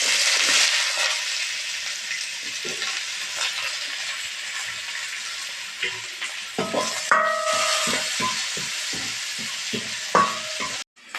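Onion, green chili and curry leaves fry in hot oil with a loud, steady sizzle that settles, then a run of rhythmic stirring and scraping knocks in the pan, alone with no talking.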